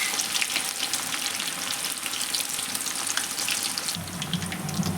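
Cauliflower 65 pieces deep-frying in hot oil, a steady dense crackling sizzle that stays loud and even throughout, with no one talking.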